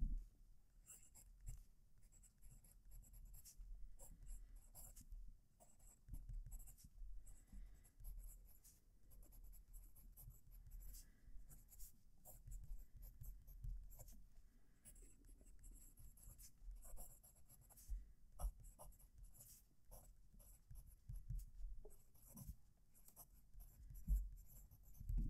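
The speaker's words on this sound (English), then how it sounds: "Final writing sample." A fountain pen with a medium nib writes on paper, giving faint, close scratching strokes in an irregular rhythm against a quiet background, with no talking.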